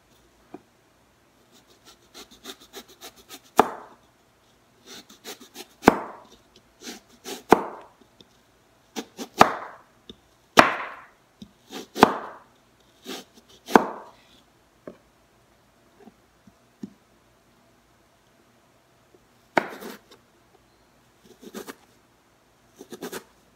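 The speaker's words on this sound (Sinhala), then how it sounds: "කෑල්ලක් ඔගොල්ලන්ට කපන හැටි පෙන්වන්න." Knife cutting through kohila (Lasia spinosa) roots, a series of sharp crisp slicing crunches spaced a second or two apart, close and fairly loud, with quiet gaps and a few final cuts after a pause.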